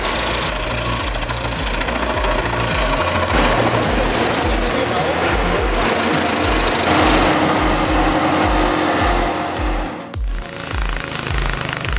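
Comptech Chippo 8010C wood chipper with 3,000 pound-feet of torque shredding 24-inch logs, a loud, dense mechanical roar with rhythmic knocking pulses that drops off sharply near the end.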